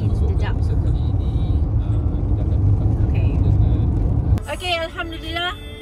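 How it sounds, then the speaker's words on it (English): A car driving along a road at night in Western Australia, with a steady low engine and road rumble throughout; near the end the rumble drops and a voice begins talking over it. "Okay, now we are driving in the dark."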